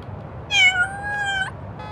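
A kitten in the game Little Kitty, Big City gives one clear, drawn-out meow, followed by a short second mew, with no voices.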